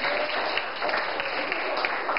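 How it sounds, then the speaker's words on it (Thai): A class of sixth-grade Thai primary school students claps for a classmate in a classroom. The clapping is dense, even and fairly close, and it fills the moment without any talking. "ปรบมือเพื่อนหน่อยค่ะ"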